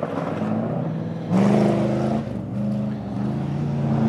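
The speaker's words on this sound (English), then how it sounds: "The old rally car goes great" An old rally car's engine drones steadily through a race, its pitch jumping sharply upward partway through before settling into a sustained, loud revving hum.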